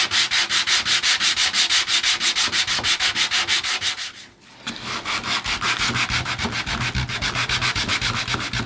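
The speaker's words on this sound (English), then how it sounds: "What I suggest is you work as tight into that corner as you can with your sandpaper" Sandpaper is rubbed by hand along the wooden chine of a Bouchie Dory boat during filleting, a close, steady back-and-forth rasp in quick even strokes, with a brief pause near the middle.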